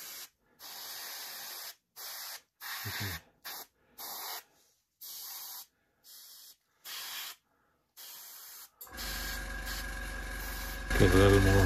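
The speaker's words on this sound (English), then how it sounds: "I just adjusted the airbrush a little" Harder and Steenbeck airbrush spraying in short repeated hissing bursts with gaps between, close and steady, then a longer continuous spray as a compressor hums and rattles underneath toward the end.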